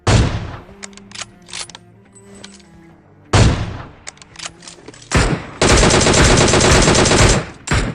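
Gunfire in a shooter video game, including AWM sniper and DP machine gun shots: a loud sharp blast with ringing tail, scattered single shots, then another heavy report and a sustained burst of rapid automatic fire, no talk.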